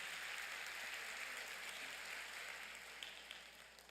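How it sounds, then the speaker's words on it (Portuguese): A church congregation applauds Jesus during a worship service, a dense, even wash of clapping that holds steady and fairly distant, easing off slightly toward the end. "Dê mais um aplauso a Jesus."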